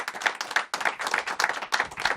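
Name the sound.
audience applause for John Peddelty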